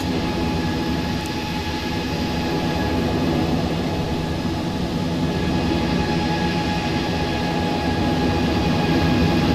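A Boeing 777 airliner lands on a runway, its engines giving off a steady, loud, continuous roar that holds evenly throughout with no speech.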